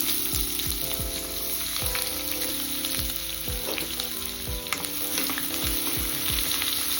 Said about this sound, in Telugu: ఇప్పుడు ఇదే ఆయిల్లో దాల్చిని, ఇలాచి, లవంగాలు, తరిగిన ఉల్లిపాయ ఒకటి వేసేసుకోవాలి